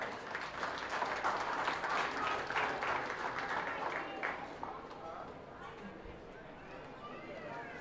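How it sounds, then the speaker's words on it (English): Audience applause for a goat show entrant at a county show arena rises as a steady, fairly loud patter, then thins and fades after a few seconds, leaving a low murmur of background noise. "Again, let's give him a round of applause."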